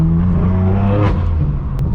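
A straight-piped BMW M4 F82 roars through central Hollywood on a Friday night, its loud raw exhaust rumbling and swelling into a rev, then settling back, close up and dominant.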